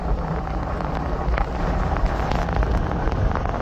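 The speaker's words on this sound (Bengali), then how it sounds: "আর অনেক বৃষ্টি হচ্ছে" Heavy rain and strong wind batter a river launch in a storm. The sound is a dense, steady roar with crackling rain noise and buffeting gusts, loud and continuous throughout, with no voices.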